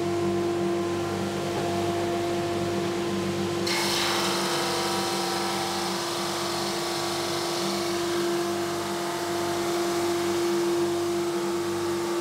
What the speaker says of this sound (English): Gonna need to sand this off.